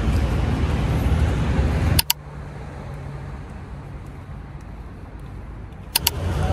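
Traffic rushes along a wide highway in Abu Dhabi beside a sidewalk, a steady broadband roar from passing cars with a brief sharp clatter nearby.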